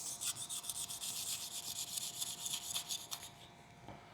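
A Demko Bowie knife saws through thick, abrasive sisal rope in quick, rhythmic rasping strokes, close and fairly quiet, with no voices.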